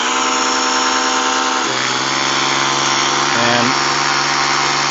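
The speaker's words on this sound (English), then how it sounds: "let's go ahead and hook it up to the Ryobi EZ Clean and see what kind of foam it generates" A Ryobi EZ Clean pressure washer runs at max power with a 15-degree nozzle and a DIY foam cannon attached. It gives a loud, steady motor drone and spray hiss whose pitch dips briefly twice, with a voice heard once.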